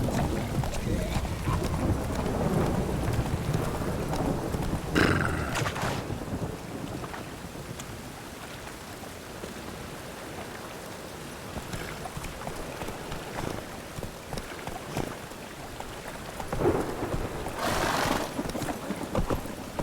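Rain hisses steadily in The Witcher 3 game world while low rumbles of thunder roll in at intervals, with a couple of sharper cracks standing out above the constant downpour.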